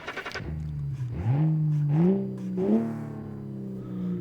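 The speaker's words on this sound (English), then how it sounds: "Let's start up the engine." A car engine in the BeamNG video game cranks and fires up, then revs with rising and falling whining tones before settling into a steady idle, up close and loud.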